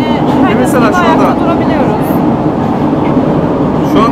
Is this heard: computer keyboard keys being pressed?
no